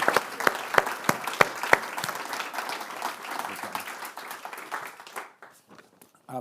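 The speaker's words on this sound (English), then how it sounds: "a big round of applause for our panel. Catherine, Barbara, and Neil and Morgan" Audience applause for a panel at a conference event: a few loud distinct claps up front, then a moderate scattered round of clapping that tapers off and stops.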